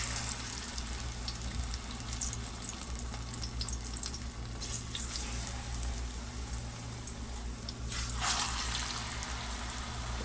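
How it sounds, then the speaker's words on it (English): Plantain slices frying in a pan over medium-high heat give off a steady, dense sizzle and crackle that runs evenly throughout, with no talking. "so now let's put in the plantain"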